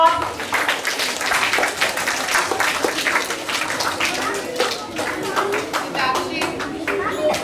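Students and teachers at a Class 3 B school assembly clap for a prize winner, a loose crowd of hands beating steadily and fairly close, with children's voices talking underneath.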